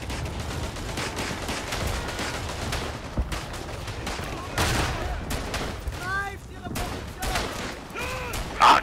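Gunfire in the World War I shooter Verdun, a busy battle mix of repeated rifle and shotgun blasts with sharp, separate reports spread across several seconds, while a voice talks over the fighting.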